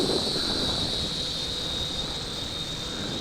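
Steady high-pitched whine of an FQ777 918C camera drone in flight, a constant buzzing tone over broadband wind rush, continuous and fairly close with no talking.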